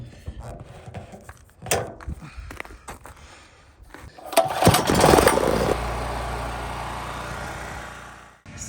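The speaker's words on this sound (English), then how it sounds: "So I'm going to start the generator" A generator starts during wildfire evacuation preparation beside a truck with a pump system: quiet rustling, then a sudden loud engine catch that settles into a steady, close running drone.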